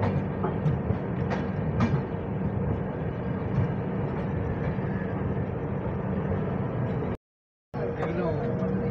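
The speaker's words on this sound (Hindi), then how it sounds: "कोई ट्रेन आ रहा है, वहाँ पर ग्रीन सिग्नल दिया गया है तो देखना पड़ेगा। वो रहा हावड़ा राजधानी जा रही है।" The Howrah Rajdhani express passes near Asansol with a steady, loud rumble and wheel rattle that fills the whole stretch, broken by a brief dropout near the end, with voices faintly present.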